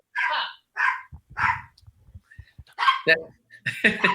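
A small poodle terrier mix, about seven pounds, barks in quick, sharp, high yaps, several bursts in a row, close and loud, with short gaps and some softer low sounds between them.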